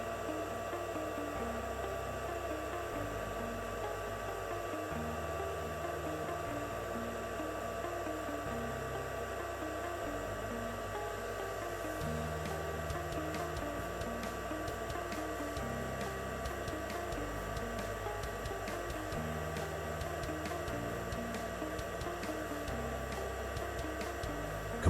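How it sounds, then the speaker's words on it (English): A US Air Compressors air compressor runs with a steady, close motor hum and hiss that continues unbroken from start to finish, with a faint rapid ticking joining partway through. "Compressor started."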